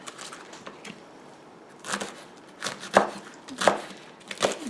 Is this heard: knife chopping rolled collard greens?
yes